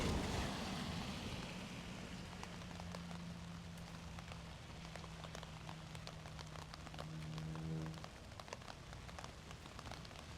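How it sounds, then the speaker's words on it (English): Light rain falling outdoors in Ottawa, a constant soft patter and hiss of drops on surfaces, with a low steady hum running beneath it and no one speaking. "It's raining a little bit, but got my umbrella."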